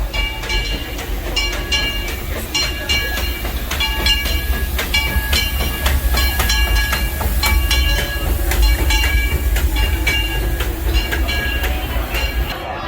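The Disneyland Railroad train rolls along its track at the Magic Kingdom with a steady rumble and repeated rhythmic clickety-clack of the wheels, close by and continuous, with a faint hiss.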